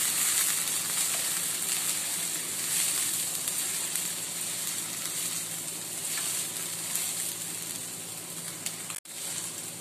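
Onion with ginger garlic paste sizzles and fries steadily in a pan, a constant close hiss with occasional stirring and no talking.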